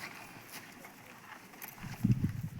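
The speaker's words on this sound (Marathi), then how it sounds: "चिमणी चल ना, सरजे बैल चल" Bullocks walk on farm ground among carrot fields, their hooves thudding in a few dull, close steps toward the end, while a voice calls out quietly over a faint outdoor background.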